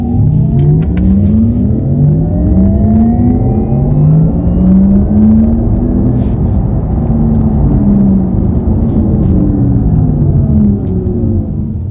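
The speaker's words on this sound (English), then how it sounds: "it just gives you a very electric, sort of a Star Wars kind of a futuristic zingy vibe inside the cabin" Porsche Taycan electric car under way, with its synthetic cabin sound forming a futuristic whirring hum. The hum rises and falls in pitch as the car accelerates, over a loud, steady road rumble and no speech.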